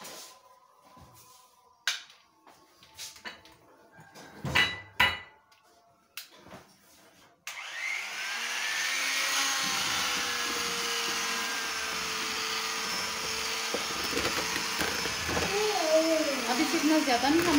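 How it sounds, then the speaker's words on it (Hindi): A few clattering knocks and taps, then an electric hand mixer whirs steadily for about ten seconds, its pitch wavering slightly as it runs. "अब इसमें मैं मिक्सर यूज़ करूँगी।"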